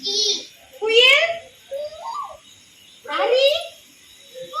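A voice imitates a koel cuckoo, giving two rising, whistled calls about two seconds apart, each sliding upward in pitch, with a short babbling sound between them. The calls are close and fairly loud.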